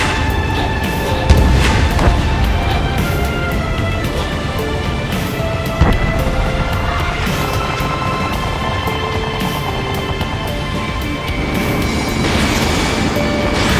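Ace Combat 7 aerial combat fills the space with continuous loud roaring jet noise, dense gunfire and booming explosions, with sharper impact crashes near the start and around the middle.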